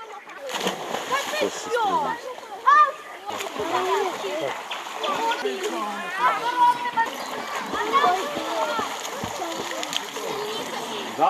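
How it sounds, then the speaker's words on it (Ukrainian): Children splash and swim in a river during a morning swim, with water splashing and sloshing throughout and their voices and shouts carrying over it. "Одразу після руханки усе товариство вирушає на ранкове купання до річки"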